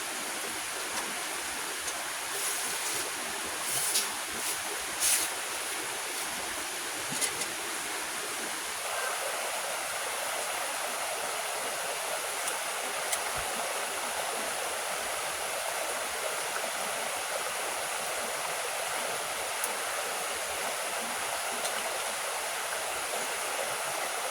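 Stream water flows in a steady, even rush close by, continuous and unbroken, with a faint outdoor hiss over it.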